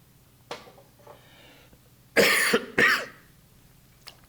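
Two loud, harsh coughs in close succession, preceded by a softer throat sound, with quiet pauses in between.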